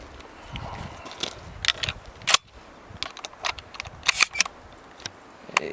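Clicks and metallic snaps of 12 gauge birdshot shells being pushed into the tube of a Mossberg 930 JM Pro shotgun, several sharp close ticks spaced irregularly with quiet handling between them.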